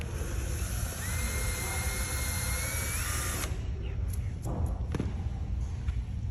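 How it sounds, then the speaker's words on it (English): A small power drill whines for a few seconds boring a small hole into a loose hardwood floorboard, then stops, leaving a few light clicks and taps over a low background hum. "We're just going to come in and drill a small hole."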